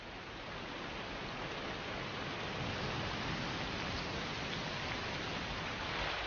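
Heavy storm rain sweeps over the Hebrides in Scotland, a dense, steady hiss of downpour and wind filling the air at a constant, loud level with no pauses.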